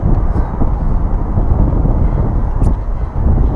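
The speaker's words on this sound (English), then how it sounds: "That helicopter is now circulating." A helicopter circles overhead in London, a loud, steady low rumble of rotor and engine with wind buffeting the microphone.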